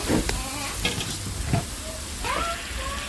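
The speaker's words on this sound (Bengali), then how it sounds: "দিয়ে আমি মশলাটাকে আবার একটু কষিয়ে নেবো" Spice paste with turmeric stir-fried in a pan for pork curry, a steady sizzle with scraping stirs and a few brief clinks over continuous frying hiss.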